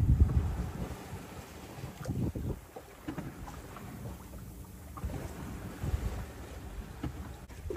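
Wind and water noise aboard a sailboat under sail off the Moroccan coast, a steady broad rush with gusty swells and low hull and wave sounds, fairly loud and continuous with no talking.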